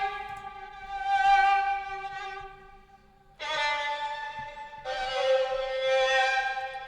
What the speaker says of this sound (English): It's the Balkan Ethnic Orchestra Gypsy Violin preset